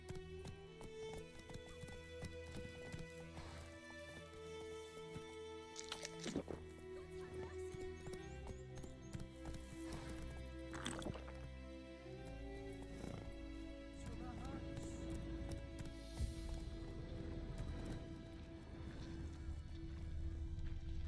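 Roach, Geralt's horse in The Witcher 3, trots and gallops with a steady run of hoof clops that mix with music and other game sounds, and talk comes in over them.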